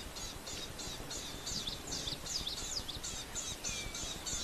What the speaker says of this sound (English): Listen to those birds. Still very upset that they've discovered this male lion.